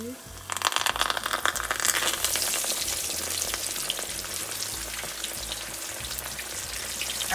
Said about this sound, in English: Now it's time to fry our fish.